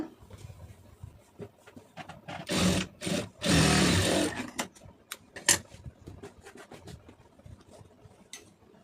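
A sewing machine stitches a cotton lining blouse, two short bursts of steady motor whirring among scattered clicks and fabric rustles, close and moderately loud with no voices.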